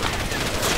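Within Far Cry 2, an ammunition crate hit by gunfire bursts into a dense, loud crackle of exploding rounds that fills the whole brief moment.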